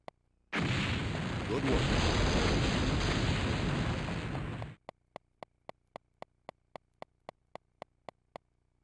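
A bomb explosion in the game Silent Bomber: a loud, sustained roaring blast lasting about four seconds, then a series of evenly spaced sharp ticks, with a brief spoken line.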